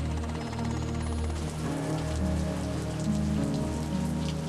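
Heavy rain from a multi-day storm in Sacramento, California, a dense steady roar of drops pounding surfaces, loud and continuous with no voices.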